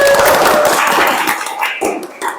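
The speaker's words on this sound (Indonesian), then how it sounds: "Tepuk tangan dulu" A classroom group breaks into a short burst of hand clapping, close and fairly loud, fading into scattered claps within a couple of seconds.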